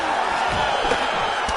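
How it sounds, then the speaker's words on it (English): Arena crowd roaring and whooping after a high-level grappling exchange at a women's combat sports event, a dense steady wall of cheering with a few louder shouts and thuds. "you heard the crowd pop after that grueling crowd battle"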